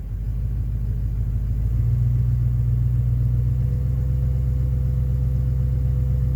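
A Duramax LMM diesel truck engine idles with a steady low rumble, then revs up a little and holds a higher, throbbing drone, with no knocking.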